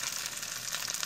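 Trout frying in a pan: a steady close sizzle and crackle with small popping spikes, continuous and moderately loud, with no talking.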